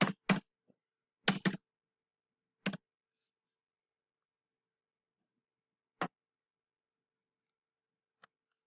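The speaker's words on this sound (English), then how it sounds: "Type in the password and the code," Password typed on a computer keyboard: short bursts of sharp, close key clicks, a pair and another pair early, then isolated taps spaced seconds apart against near silence.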